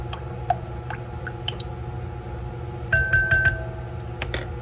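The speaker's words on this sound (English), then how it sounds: "Give it a little whisk." A whisk stirs a marinade of juice in a bowl with light, irregular clinks and ticks against the side, faint and close, with a brief quicker flurry of taps partway through.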